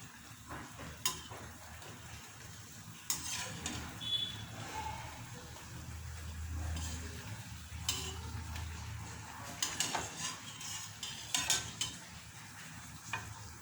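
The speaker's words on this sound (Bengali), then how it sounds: "গ্যাসটা কিন্তু আমি মিডিয়াম আঁচে রেখেই ভাজছি।" Nimki frying in oil on a medium flame: a soft bubbling sizzle with intermittent sharp scrapes and clinks of a utensil against the pan, close and fairly quiet, with no talk.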